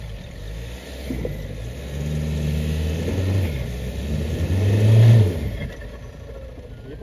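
Suzuki Jimny with a 1500cc engine revving while off-roading, the engine note climbing and falling through several rises, building to a loud peak near the end before easing off, close and clear.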